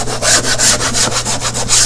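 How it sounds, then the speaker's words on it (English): A sanding block rubs back and forth along the edges of a wooden drawer box, a loud, close, steady rhythmic scratching of about ten quick strokes with no voices. "We start with the bottom, and I take a sanding block"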